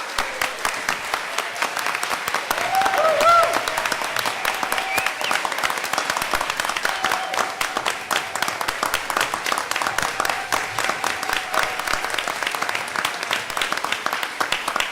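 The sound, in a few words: applause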